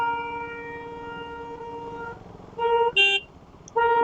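A car horn sounds in a few short honks amid steady traffic noise on a night ride toward Bangalore airport, with a long tonal blare beforehand that fades out.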